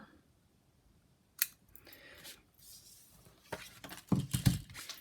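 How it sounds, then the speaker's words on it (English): Scissors cutting a thin paper strip for a handmade card: faint, quiet snips and light paper rustles close by, starting with one sharp click and ending with a few louder, closer cuts. "I've got a fairly straight eye and can snip that fairly well"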